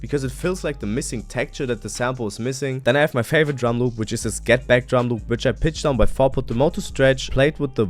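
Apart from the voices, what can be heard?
No everyday noises stand out.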